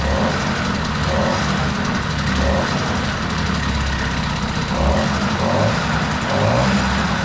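A 1977 Peugeot 103 moped engine runs on its stand during break-in, a loud, steady, close, continuous buzzing drone with slight rises in speed.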